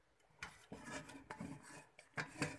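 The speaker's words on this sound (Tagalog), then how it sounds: "Kukunin ko lang itong kaldero para magluto na ako ng kanin." Metal cooking pot being picked up and handled in a home kitchen before rice is cooked, with quiet scattered clanks, scrapes and rubbing knocks.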